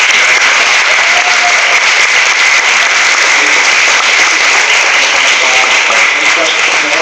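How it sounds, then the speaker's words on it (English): An audience claps in sustained applause for a community panel participant, a dense, even wash of clapping that stays loud and steady throughout with no pauses. "I just really want everyone to give a round of applause here for Allison."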